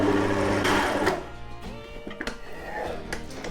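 Electric mixer on low beating butter and icing sugar for black buttercream, a steady whirring motor hum with mechanical rattle, louder at first then settling lower, with no talking.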